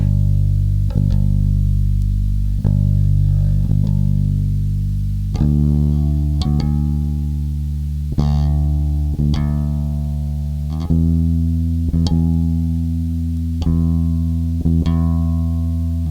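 Bass guitar notes through a Behringer BLE400 limiter enhancer played one after another, each plucked note ringing with a smooth, even, compressed sustain, alone with no talking.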